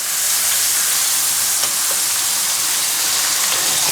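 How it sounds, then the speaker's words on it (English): Bacon frying in a pan, a loud, steady, dense sizzle and hiss that fills the whole stretch, with a few faint pops and ticks scattered through it. "and then I'm going to put the bacon in there"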